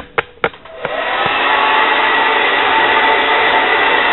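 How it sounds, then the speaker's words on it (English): A heat gun blows a steady, loud, continuous whoosh while warming the edge of a faux granite laminate countertop, preceded by a few sharp clicks and taps as it starts up. "I'm going to warm up this little edge here so I get a nice tight"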